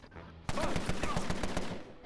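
Rapid burst of automatic gunfire in the 1920s gangster strategy game Empire of Sin, about a dozen sharp, evenly spaced shots following a quiet lead-in and ending in a loud final crack.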